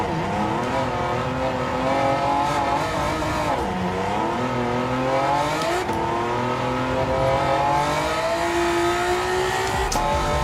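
A Honda NSX race car in Gran Turismo 7 roars continuously as the engine revs up and down through gear changes, pitch sweeping upward, with faint tire noise under the loud engine.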